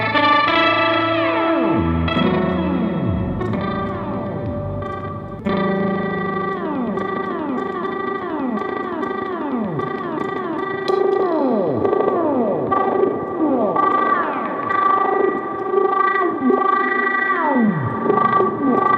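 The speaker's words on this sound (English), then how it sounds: "speed control on the face controls the speed of the dive on the bender" Dwarfcraft Super Wizard effects pedal producing a continuous stream of synth-like tones bent into repeated downward swooping dives, washed in reverb and echo, loud and steady throughout with no talking.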